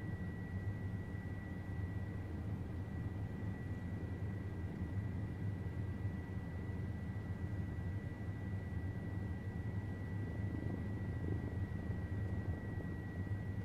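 Steady, continuous rotor drone and engine hum of an OH-58D Kiowa helicopter in a flight video game, a constant low throb with a thin whine above it, holding at an even level throughout with no talk.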